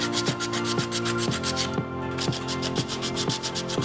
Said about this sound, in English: we are going to sand the buttons down